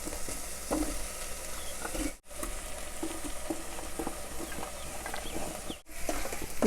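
Potatoes sizzle in an Instant Pot while being stirred, with busy scraping and clattering stir noises over constant frying, broken by two brief moments of near silence.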